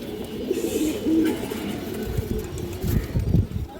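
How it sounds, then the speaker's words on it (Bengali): A red male high-flyer pigeon coos in low, soft bursts around the middle and end, close by and fairly quiet, with some faint rustling in the background. "একটা লাল চুল্লি নর কবুতর"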